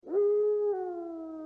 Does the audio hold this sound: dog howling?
yes